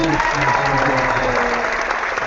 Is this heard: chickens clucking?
no